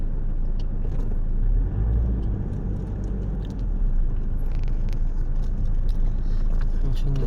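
A car pausing briefly at a CCTV checkpoint on the road to Kathmandu, Nepal, with a steady, loud low engine rumble that continues as it moves off, plus faint scattered clicks.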